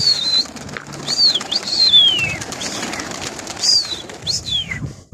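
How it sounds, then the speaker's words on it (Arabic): A flock of over thirty pigeons is released and flies off, with wings fluttering and birds cooing amid steady outdoor noise, no talking. "هاي حمام دعوكم شباب"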